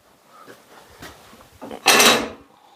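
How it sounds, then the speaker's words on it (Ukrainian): A door opened while meat is being cooked, with a few faint knocks and a soft slide, then one loud, broad whoosh that fades over about half a second. "Двері відкрити, хай пар туда йде"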